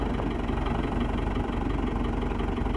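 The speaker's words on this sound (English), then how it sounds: "So they're using the tractor bucket and a chain to lift those poles out." A tractor engine runs at a steady idle-like rumble while its bucket and a chain pull old gate fence posts from the ground, a constant close low drone throughout.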